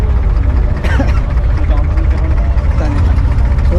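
A boat engine runs steadily throughout a boat ride at a crowded New Year outing, a loud continuous low rumble with voices and crowd chatter mixed over it.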